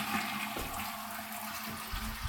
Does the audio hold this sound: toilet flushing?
yes